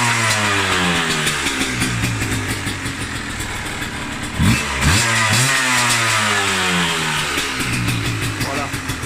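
A Yamaha TDR125 two-stroke motorcycle with an Arrow exhaust and Boyesen reed valves runs close by, idling with a steady harmonic drone and blipped revs partway through, rising and falling in pitch.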